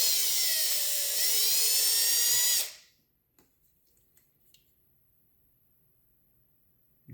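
A rotary tool polishing the ball seat inside an LBZ diesel injector whines at a high, steady pitch for under three seconds, then cuts off, leaving near silence with a few faint clicks and taps.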